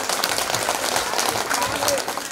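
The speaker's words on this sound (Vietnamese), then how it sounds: "Xin một tràng pháo tay để người đấy chúc mừng ạ." Congregation applause at a Catholic parish memorial anniversary gathering, steady dense clapping filling the whole moment at a constant level, with no pause.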